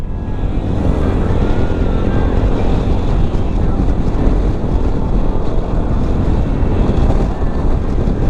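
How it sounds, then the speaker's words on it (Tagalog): Strong wind buffets the microphone while riding a Skydrive 125 motorcycle from Quezon City to Baguio, a continuous, loud roar with gusty low rumbling throughout. "Ang lakas ng hangin"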